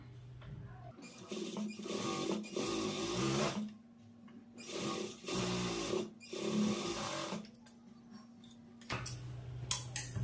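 A sewing machine runs top stitching on a blouse in several steady whirring bursts of a few seconds each, separated by short pauses, close and fairly quiet with no talking.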